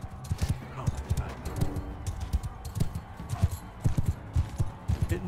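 Horse hooves pound in rapid, uneven thuds as a mounted rider charges in the video game Bannerlord, with close, punchy impacts running throughout.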